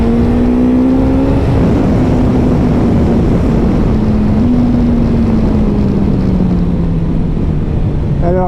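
Suzuki GSX-S 1000 GT motorcycle at riding speed, a steady loud engine drone with slowly falling pitch under heavy wind rush, continuous and close, with no voices.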